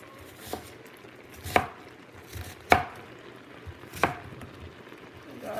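A knife chops red onion on a board, four distinct sharp cuts spaced about a second apart, close and clear against a quiet background.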